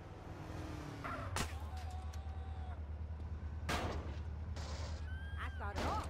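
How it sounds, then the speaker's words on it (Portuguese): Gunfire in the PC game GTA San Andreas Definitive Edition: a few sharp, loud shots stand out over a steady low engine drone, with scattered game effects and brief voice sounds in between. "Polícia, me ajuda, os caras estão atirando."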